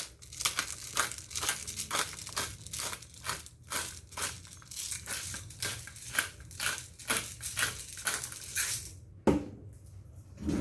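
Black pepper being cracked in a hand grinder over sockeye salmon: a run of sharp, crunchy grinding bursts in quick rhythm, close and fairly loud, stopping briefly near the end before one last crunch.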